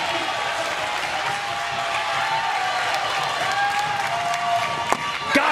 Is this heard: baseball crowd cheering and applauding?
yes